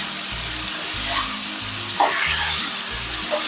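Chicken frying in a pan with ginger garlic paste and chopped onions, a steady close sizzle with occasional stirring scrapes, while a low pulsing hum runs underneath.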